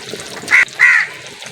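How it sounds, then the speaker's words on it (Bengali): A crow near a home kitchen gives two loud, harsh caws in quick succession, close by, over faint background noise. "আমি এখানে রান্না করছি, পাশের কাক এত ডাকছে।"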